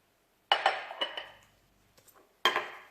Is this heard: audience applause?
no